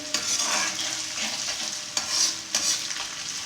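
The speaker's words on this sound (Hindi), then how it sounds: "इसको हल्के से हिलाएंगे" Ground cumin is stirred and lightly roasted in a karahi for charsi chicken, producing a close, bright sizzle with soft scraping strokes and a couple of sharper spoon clicks, with no voices over it.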